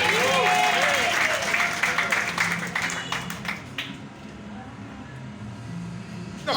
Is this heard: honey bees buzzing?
no